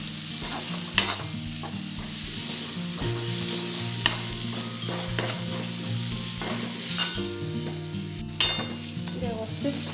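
Fried bitter gourd with salt is stirred in a pan, with a constant close sizzle and sharp intermittent spatula scrapes and knocks, under steady background music.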